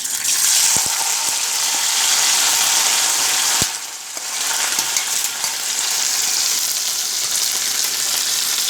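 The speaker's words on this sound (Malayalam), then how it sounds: "ഇറച്ചി വറുക്കാനായിട്ട് ഒരു ചട്ടി അടപ്പത്ത് വെച്ച് അതിൽ വെളിച്ചെണ്ണ ഒഴിച്ചിട്ടുണ്ട്" Meat frying in coconut oil in a pan on the stove, a loud, continuous sizzle with crackling spatters close by, briefly dipping and then resuming strong.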